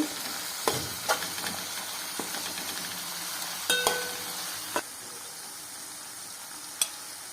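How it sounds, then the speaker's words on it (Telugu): Ginger garlic paste fries in a pan for chicken dum biryani, a steady soft sizzle broken by a few sharp clinks of a spoon against the pan. "అవి బాగా రవ్వ రవ్వ వచ్చేంత వరకు అల్లం వెల్లుల్ని వేయించుకుందాం"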